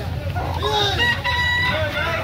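Roosters, including a yellow-legged gamecock, crow at a busy Carbon market in Cebu City, with crowing and clucking layered over constant crowd noise and chatter.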